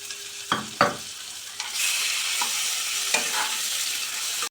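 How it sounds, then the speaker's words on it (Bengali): Chicken frying in a pan with capsicum and onion, a steady sizzle broken by scraping stirs and clinks of the spatula, with a louder burst of frying kicking in partway through. "এবার চিকেনটা দিয়ে দেবো।"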